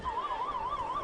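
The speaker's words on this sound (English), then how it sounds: "that's the siren signifying the end of the third quarter" A stadium siren at a high school football game marks the end of the third quarter, a loud, steady wailing tone that rises and falls in a quick, even rhythm with no talk over it.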